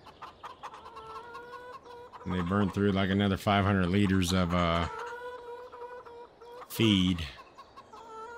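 Chickens cluck in a Farming Simulator 22 coop on the Fichthal map, a loud burst of layered clucking in the middle with a shorter one near the end, while someone talks throughout.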